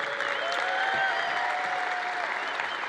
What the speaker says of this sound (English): Let's give a round of applause to the Flyers as well.